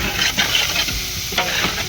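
Vegetables and green chillies are stirred in a large pan of hot oil for a big batch of egg fried rice, giving a continuous loud sizzle broken by scraping, tossing strokes of the spatula.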